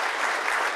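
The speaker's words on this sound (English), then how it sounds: "why are you clapping?" Audience applause at a Go programming conference talk, a dense, even wash of clapping from a large crowd filling the whole moment.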